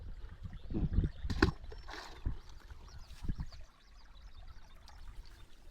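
Quiet water trickles and splashes in irregular bursts, fading to a softer flow toward the end.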